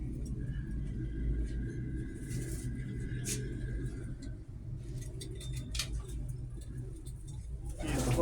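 Mostly white pigeons coo softly on a rooftop over a steady low rumble of distant traffic, with a few brief faint sounds and a little quiet talk.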